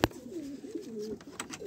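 A pigeon coos softly in a short rolling phrase, close by, with faint rustling behind it.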